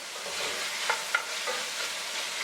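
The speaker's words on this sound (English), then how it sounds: "give everything a quick stir" Salted pork and its fat stirred briefly in a pot over medium heat, with a steady bright sizzle and two quick scraping clicks of the spoon, close and free of speech.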